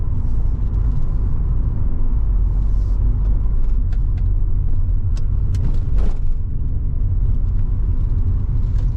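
An articulated lorry reverses slowly on a road, giving a steady low engine rumble close by, heard from inside a car with no talk.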